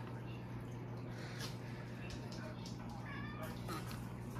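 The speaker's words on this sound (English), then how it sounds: "A kitty cat." A cat meows a few times in a noisy room, faint and partly masked by a steady low hum and speech-like background.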